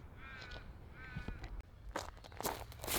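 A crow caws twice in quick succession, moderately distant and fairly faint, followed by rustling and crunching noises close by.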